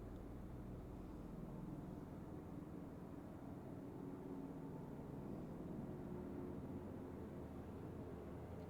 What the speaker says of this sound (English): That is a loud ass helicopter outside my window.